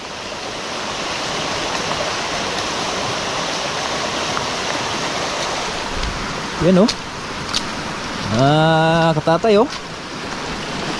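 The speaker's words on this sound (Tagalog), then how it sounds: "Malakas na ulan." Heavy typhoon rain pours in a steady, dense roar throughout, with people's short exclamations rising over it near the end.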